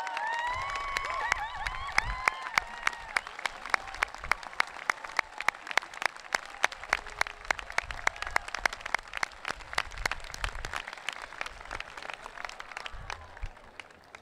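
Audience at a 2014 Santa Barbara High School graduation in a stadium applauds alumni, scattered clapping building into sustained applause with rhythmic unison claps and some cheering, heard from a distance before tapering off.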